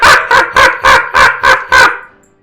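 Flying monkeys in a tabletop fantasy adventure are voiced by a sound effect of seven sharp, evenly spaced barking yelps in quick succession, loud and close, fading out at the end.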